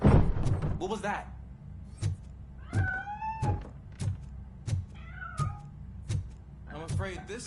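A cat meows repeatedly in a game scene, several clear rising and falling cries interspersed with dull thumps, close and fairly loud over a low rumbling background.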